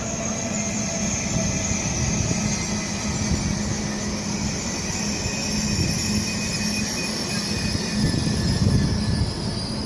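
A Class 375 electric train pulls out of Ebbsfleet International station on HS1, a continuous loud rumble of wheels and motors with a faint high squeal running steadily throughout.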